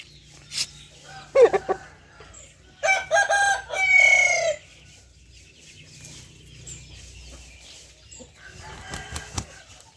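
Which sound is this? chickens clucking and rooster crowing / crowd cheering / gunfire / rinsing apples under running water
chickens clucking and rooster crowing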